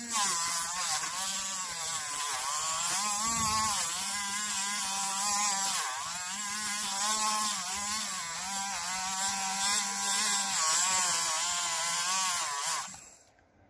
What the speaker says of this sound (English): See, very nicely it is polishing the objects.